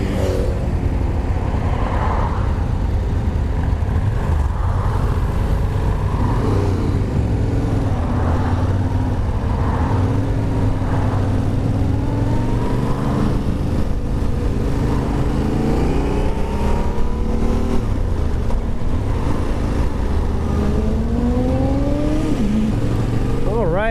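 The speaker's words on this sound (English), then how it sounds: "This is my ride on the Yamaha Tenere 700, the T7." Yamaha Tenere 700 motorcycle riding on the road, steady engine drone with several rising revs through gear changes, heard up close alongside wind noise.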